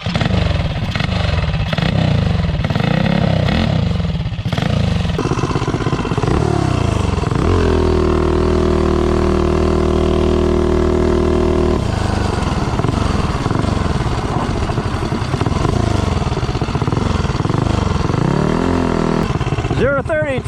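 A 223 stroker engine with a 24mm flat slide carburetor, geared 67 rear and 15 clutch sprocket, accelerates from standstill to 30, its loud buzzing engine note climbing steadily and then holding a high drone before easing off.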